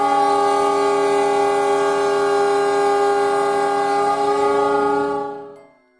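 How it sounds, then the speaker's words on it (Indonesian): A loud, sustained train horn blares steadily for about five seconds, rich and harmonic, then fades away quickly at the end. "si Surya mendengar suara klakson kereta api yang dengan sangat kencang."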